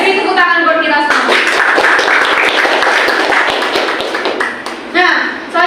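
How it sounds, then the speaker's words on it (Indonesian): Students clap together at a seminar on drug abuse, a burst of applause in the middle with voices talking before and after it. "Beri tepuk tangan buat kita semua."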